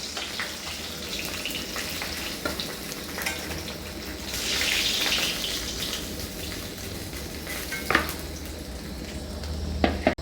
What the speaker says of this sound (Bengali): মাছের মাথাগুলো আমি ভেজে নিয়েছি